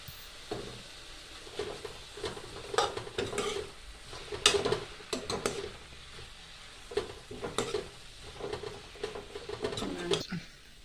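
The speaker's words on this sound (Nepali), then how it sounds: "चलाएपछि लसुन हालेर फेरि चलाएँ।" Potato and fiddlehead curry with garlic is stirred in a pan. A spoon scrapes steadily over a soft, continuous sizzle, with occasional clinks against the pan.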